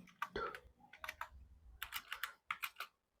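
Someone types a prompt on a computer keyboard, several quick bursts of crisp key clicks with short pauses between, close and quiet.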